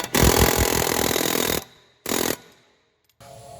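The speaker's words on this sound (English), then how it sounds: "Now I know the do-it-yourselfers out there aren't going to have this luxury of using an air hammer, but this is my weapon of choice." Air hammer working a wheel bearing loose from the rear knuckle of a 2014-2020 Jeep Cherokee, heard as two loud, close, rapid pneumatic rattling bursts, one long and one short, then a faint start of a third.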